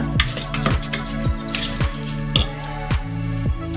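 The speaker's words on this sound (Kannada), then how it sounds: "ಆ ಪುಡಿನಲ್ಲಿ ಫ್ರೈ ಆಗಬೇಕು ಸ್ವಲ್ಪ ಫ್ರೈ ಮಾಡ್ಕೊಬಿಡೋಣ" Tamarind rice masala powder frying in a pan, with a soft sizzle under regular spatula taps and scrapes repeating about every half second, close by.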